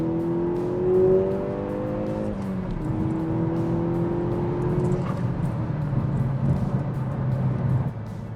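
Car engine pulling at around 3,000 rpm in second gear on a turbocharged setup with a blow-off valve, a steady droning hum that rises in pitch, heard close up from inside the cabin, with no talking.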